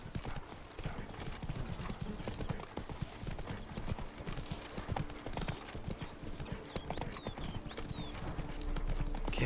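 The horse Roach walks in The Witcher 3, hooves clopping in a steady, close rhythm over a busy ambient bed, with a faint whinny near the end.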